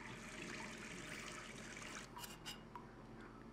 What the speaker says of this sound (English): Turn on faucet.